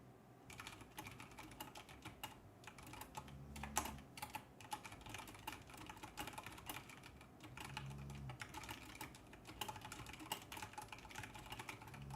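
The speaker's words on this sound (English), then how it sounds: "All I hear is furiously typing." Rapid, furious typing on a computer keyboard, a dense continuous clatter of keystrokes that runs unbroken for about twelve seconds, with no voices over it.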